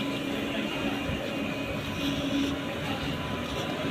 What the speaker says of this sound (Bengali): এখন ট্রেন দাঁড়িয়ে আছে